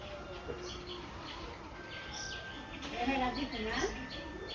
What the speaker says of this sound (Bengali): ওই যে দোয়েল পাখি।